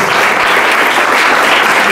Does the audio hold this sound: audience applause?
yes